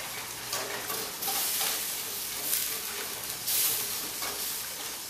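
Custard cream filling made from a milk-based cream powder bubbling in a pot while being stirred constantly, a close, continuous sizzling hiss with surging scraping strokes and no talk.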